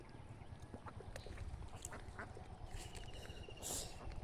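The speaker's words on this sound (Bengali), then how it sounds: "এখানে অনেকগুলো হাঁস" Many egg-laying ducks quack at a distance, a scattered run of short calls over a steady outdoor background hum, getting busier and louder near the end.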